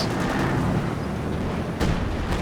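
Artillery barrage in Company of Heroes 2, a dense rumbling roar of overlapping explosions and booms, loud and continuous, with a sharper blast near the end.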